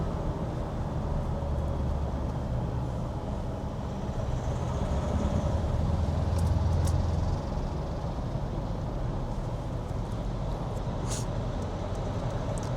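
A 2025 JAC T8 diesel pickup engine heard from inside the cab while driving, a continuous low rumble and road roar that swells slightly midway, with no talk.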